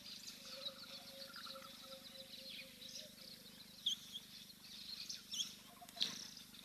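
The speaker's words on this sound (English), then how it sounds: "lovely to hear all of the birds in the background as well." Faint bird calls and chirps scattered through a quiet outdoor ambience at a waterhole, with a few brief sharper tweets near the end.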